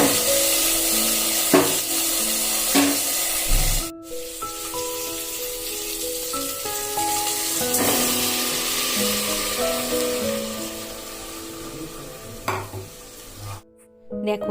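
Vegetables fry in a pan for khichdi cooked as a Lakshmi puja offering, making a loud, steady close-up sizzle broken by repeated stirring scrapes and utensil knocks, with no talking.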